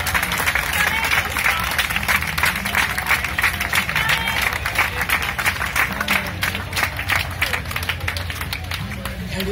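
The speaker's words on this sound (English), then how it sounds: "So we'll give Kenneth a big cheer in celebration of his life." A dense crowd applauds and cheers during the Ironman Hawaii nations parade in 2017, with steady clapping and crowd noise filling the whole stretch at a loud, constant level.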